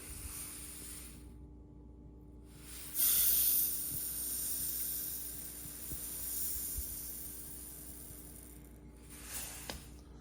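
Short-cut extruded rifle powder for reloading 7mm-08 Remington pours into a scale pan with a soft, close hiss of grains that swells partway through and trails off, followed by light ticks.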